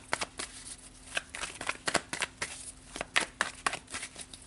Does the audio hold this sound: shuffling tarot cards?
yes